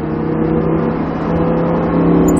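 Lamborghini Huracan engine accelerating on a circuit at Salon de Provence, a loud steady close-up roar with stable engine tones that gradually swell as throttle is added, no voices over it.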